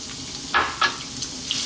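Onion sizzling and frying in hot olive oil over medium heat, a steady crackle with a couple of louder bursts as pieces hit the pan, close up.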